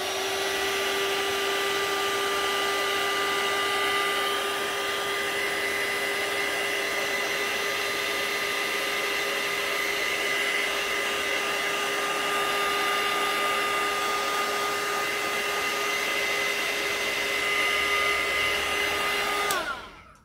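A hair dryer blows close and loud on a freshly washed gel-press stamp. Its steady whine and airy rush hold unbroken for about twenty seconds before it switches off abruptly.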